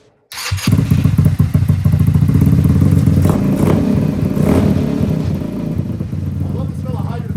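A GY6 scooter engine starts and runs after a carburetor install, a loud close steady idle with a rapid putter and a slight rise in the middle, continuing to the end.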